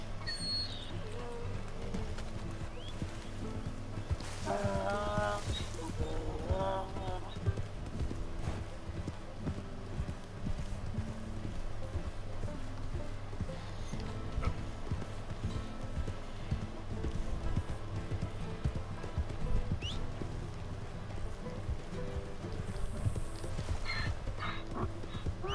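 Steady horse hoofbeats clip-clop at a galloping pace throughout in the video game Red Dead Redemption 2, with a brief whinny early on, over a continuous low background hum.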